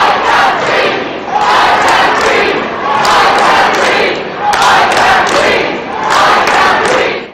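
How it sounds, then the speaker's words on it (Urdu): Crowd of protesters in city streets chanting slogans against George Floyd's killing, a loud sustained roar of many voices rising and falling in waves, with no single voice standing out. "مظاہرین نے شدید نعرے بازی کرتے ہوئے"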